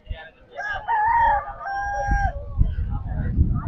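A rooster crows once at a Sunday bird market in Hyderabad, a loud drawn-out call, followed by clucking and scuffling noises nearby.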